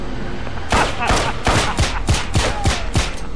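Rapid bursts of gunfire from the video game Wanted: Weapons of Fate, a run of about eight sharp, loud shots in quick succession with no talk over them.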